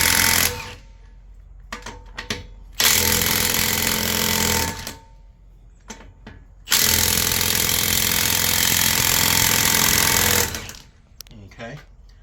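A cordless impact wrench hammers away close and loud, RIDGID 1/2-inch and Milwaukee 3/4-inch drives, in two long sustained bursts with shorter rattling blips between them; faint talk appears in the quieter gaps.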